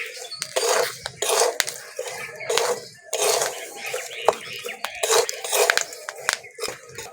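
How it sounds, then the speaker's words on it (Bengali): Chickpeas roasting in hot salt in a pan while being stirred constantly, giving close, repeated bursts of gritty scraping and rattling in an uneven rhythm. "দেখুন কত সুন্দর ফুটছে ছোলাগুলো।"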